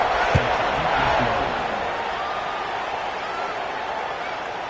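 Stadium crowd in a football video game buzzing loudly as a steady broadband roar, with a brief thump early on and commentary-like voices under it.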